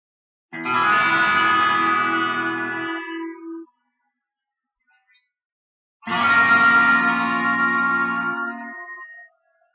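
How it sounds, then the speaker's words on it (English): Two sustained, shimmering melodic chords from an electric guitar through a shimmer effect, each ringing for about three seconds with bright upper overtones, separated by a short silence. "that is kind of a melodic sound with what they call a shimmer effect"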